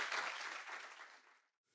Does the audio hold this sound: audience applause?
yes